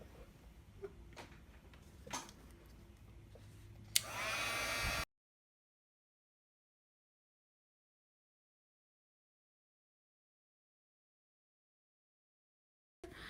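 A heat tool melting embossing powder for a card-making kit blows a steady, loud broadband rush for about a second after some quiet handling noise, then cuts off abruptly into silence.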